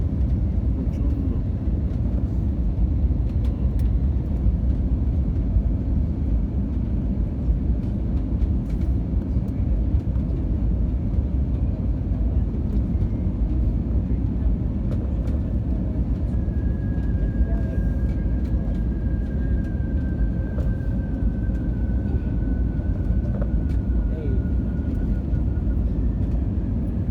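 Inside the cabin of an airliner landing at a small airport, a steady loud low roar and rumble continues throughout, with occasional knocks and a rising whine partway through.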